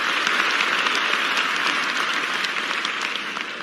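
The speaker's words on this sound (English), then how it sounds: "I think we need to hear a big round of applause from the South Australians here." Crowd in a swimming arena at the Australian national trials applauds, a broad, even roar of clapping that holds steady and tapers slightly at the end, with no talk over it.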